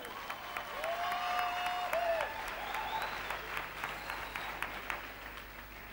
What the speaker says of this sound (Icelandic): Ég myndi bara klappa fyrir Bjössa núna.